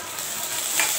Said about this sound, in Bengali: ফোড়ন দিচ্ছি, তেজপাতা, জিরা, কালো জিরা, পেঁয়াজ দিচ্ছি। পেঁয়াজটা লাল লাল করে ভেজে নেব।